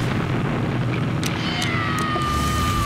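Explosion effect in a TV promo: a continuous, loud rumbling blast with sustained low roar and crackle filling the whole stretch, with a few sharp bursts layered on top and no voices.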